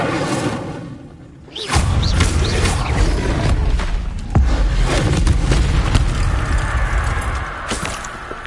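A fire spell cast in Hogwarts Legacy on PS5: after a quiet start, a sudden loud whooshing burst erupts and settles into a sustained roaring rush of flame with thumps and crackling layered throughout.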